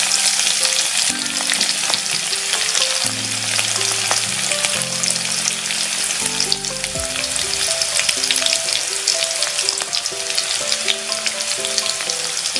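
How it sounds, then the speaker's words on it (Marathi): Mustard seeds, cumin and garlic cloves crackle and sizzle steadily in hot oil for a spicy puffed rice snack, a close, continuous hiss with sharp pops and faint music underneath. "मोहरी तडतडायला लागलेली आहे"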